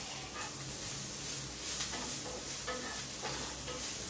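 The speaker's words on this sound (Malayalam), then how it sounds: "എന്നിട്ട് കരിയുന്ന സവാള ഇളക്കുന്നു." Browning onions being stirred in a pan, giving a continuous close sizzle with soft scraping strokes of the spoon repeating through it, no voices.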